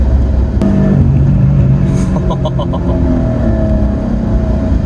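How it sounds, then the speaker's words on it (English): A 2020 Karma Revero GT hybrid, with two electric motors and a BMW three-cylinder engine, accelerates with a rising drone and a sharp exhaust pop early on, followed by a short burst of rapid crackles midway. "You even get some exhaust pops in there too with the BMW 3-cylinder engine."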